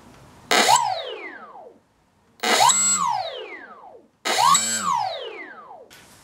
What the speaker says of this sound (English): Props rotating in the correct direction.